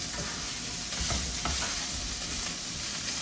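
Sausage frying in a lightly oiled pan on lowered heat, a steady close sizzle with soft intermittent stirring scrapes throughout, no voices.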